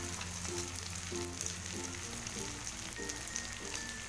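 Spices sizzling with garlic in a hot pan for a maghaz (brain) masala fry, giving a steady, dense crackle and hiss with faint stirring knocks throughout and no voices.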